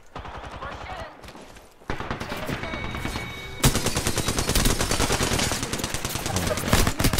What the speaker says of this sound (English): Pistol in the game.